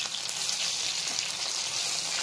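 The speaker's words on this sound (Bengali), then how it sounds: "ফ্রাই চলছে মাছ" Hilsa fish fry in oil in a pan, giving a continuous bright sizzle with crackling spatters and no voices.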